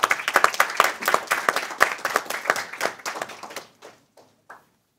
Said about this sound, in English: Please give a round of applause to Congressman Chaka Fattah.